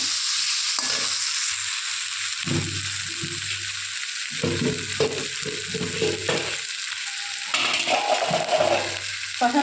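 Spices with tomato, green chilli and nut paste fry in a pan for a banana-flower dish, a steady close sizzle with intermittent scraping of a spoon stirring, no talk.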